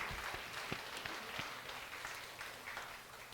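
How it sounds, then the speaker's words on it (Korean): A church audience claps in encouragement at a homecoming festival talk show, a steady, moderately distant wash of applause with a few sharper claps standing out. "떨지 않도록 다시 한번 격려하는 박수 한번 하겠습니다"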